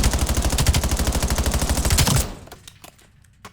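Rapid automatic gunfire in the video game Black Ops 7, about two seconds of loud, evenly spaced shots, then sudden quiet with a few faint clicks and clacks of reloading.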